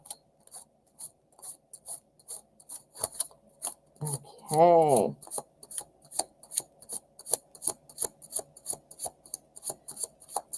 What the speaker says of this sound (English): Oh, that was a really good shuffle.